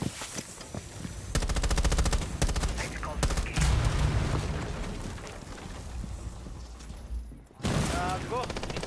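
Rapid automatic gunfire from the Rainbow Six Siege video game, loud and sustained in long bursts with rattling fire, a brief pause near the end, then more shots, with voices talking over it.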